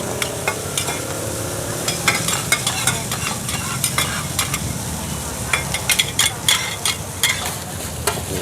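Steady scraping and clanking of a spatula in a big wok frying oyster omelettes at a night market stall, over a constant sizzle, with sharp metallic knocks scattered throughout.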